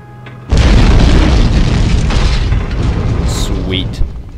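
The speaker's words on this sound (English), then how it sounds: "Give me a boom!" A spell explosion blasts a door or lock open in the game Morrowind, one loud booming burst that sets in abruptly and rumbles on for several seconds, with brief chiming magic tones near the end.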